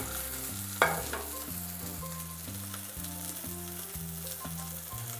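A tilapia fillet frying in a sauté pan with spring vegetables sizzles steadily and close, with one sharp spatter near the start and a constant crackling hiss throughout.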